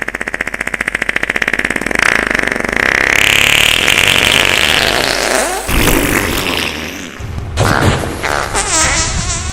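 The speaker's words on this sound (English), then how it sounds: "I let out the most monstrous fart I had ever released." A loud, long fart sound effect, a rumbling, sputtering blast lasting several seconds that shifts in pitch and texture and trails into a few shorter bursts near the end, with no talk.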